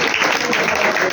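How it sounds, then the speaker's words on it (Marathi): Audience applause at a school prize-distribution ceremony, a short dense burst of many hands clapping together, loud and continuous throughout. "टाळ्या वाजवा त्यांच्यावर"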